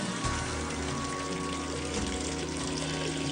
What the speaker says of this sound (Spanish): El agua fluye a lo largo de este conducto durante 1 kilómetro hasta llegar al castillo.